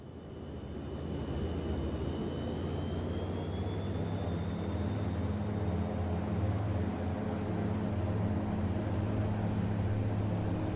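Steady, close drone of turboprop engines on an Inibuilds YS-11 airliner in Piedmont Airlines livery in Microsoft Flight Simulator 2024, rising briefly at the start and then holding a constant roar with a faint high whine above it.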